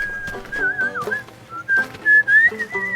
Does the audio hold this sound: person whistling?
yes